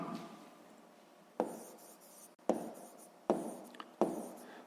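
A pen writes an answer on paper during a sixth-grade math exercise, giving soft, quiet scratching strokes broken by a few sharper taps as new marks begin, close and alone without talk.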